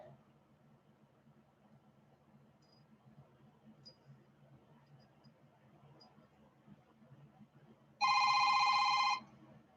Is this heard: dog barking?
no